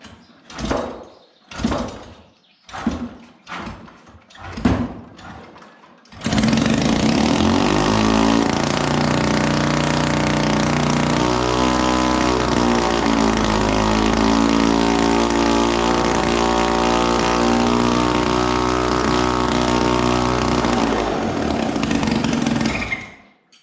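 A Solex moped engine on a workshop stand is pulled over in several sharp strokes, then catches and runs loudly and steadily with a buzzing two-stroke drone before cutting off at the end.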